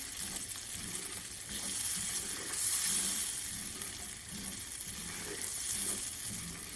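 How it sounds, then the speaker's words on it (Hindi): Chopped almonds roasting in a pan over a low flame for almond halwa, a soft steady sizzle with gentle scraping and stirring swells, faint and close, no voices. "इसको हम अच्छी तरह भूनेंगे हल्की आंच पे।"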